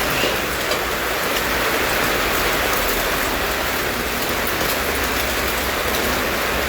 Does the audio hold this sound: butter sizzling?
no